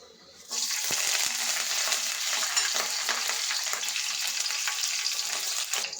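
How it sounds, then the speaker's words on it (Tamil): Mustard seeds, curry leaves and green chillies sizzle steadily in hot oil, a close, constant hiss with a few sharp crackles and pops near the start. "கடுகு கருவேப்பிலை பச்சை மிளகாய் போட்டு தாளிக்கணும்"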